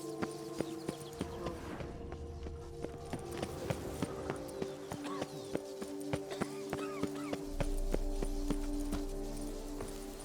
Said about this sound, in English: Even a horse drops if you ride it with a constant gallop.